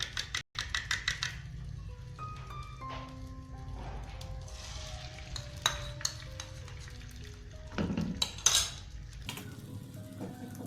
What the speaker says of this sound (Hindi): अंडे में हमने नमक डाला था हल्का सा, तो अब हम इसको फ्राई करने लगे हैं।